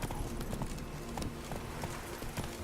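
Roach, a horse in The Witcher video game, gallops along with quick rhythmic hoofbeats, a steady run of thuds over a dense, noisy background of wind, kept at moderate volume with no talk.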